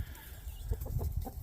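Several chickens and roosters clucking close by in a backyard flock, a quick run of short, soft clucks and murmurs with no talking.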